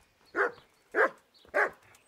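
A dog in the Kingdom Come: Deliverance video game barks three times at an even pace, each bark clear and moderately close with quiet gaps between, no talking over it.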